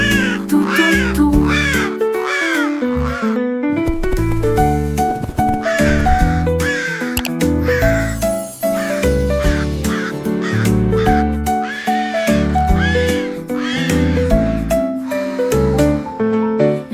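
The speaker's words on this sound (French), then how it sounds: "Un chant de corbeaux tout autour." Crows cawing in repeated harsh calls that stand out over a busy, steady backing of music and singing, loud and close throughout.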